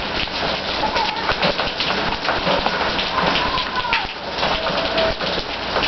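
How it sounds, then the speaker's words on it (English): Pouring rain in Manzanillo falls as a dense, steady patter of drops hitting surfaces, loud and continuous throughout. "this sound of pouring rain"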